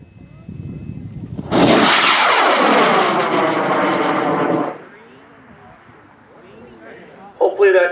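A model rocket ignites and launches at an Argonia Cup rocketry competition with a sudden loud, crackling roar that holds for about three seconds, then drops away. Faint voices follow afterward.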